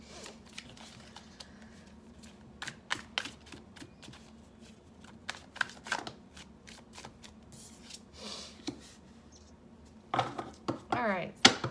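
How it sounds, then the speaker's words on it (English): Tarot cards being shuffled and drawn during a reading: soft riffling and light card slaps in scattered bursts, close and fairly quiet, ending in a denser flurry of shuffling. "Let's pull one more card."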